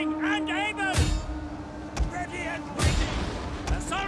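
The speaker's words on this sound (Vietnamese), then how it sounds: "Ôi nó bắn hết đạn pháo rồi kìa." Ship-borne artillery cannons fire in Total War Attila, four heavy booms spaced roughly a second apart, heard under someone speaking excitedly.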